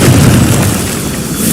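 A Confringo fire spell bursts in Hogwarts Legacy with a heavy, booming explosion that rumbles loudly for over a second.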